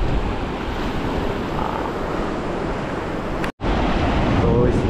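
Strong rainy-season current of the Anburayan River in Benguet, a loud continuous roar of rushing water with wind buffeting the microphone, interrupted by a brief dropout.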